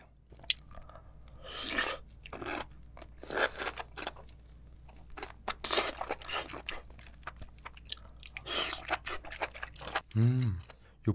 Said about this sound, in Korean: 새송이버섯도 먹어볼게요.